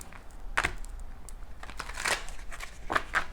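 Tarot cards are shuffled quietly and close by, giving soft papery riffling and crinkling with a few sharper snaps spread across the clip and no talking.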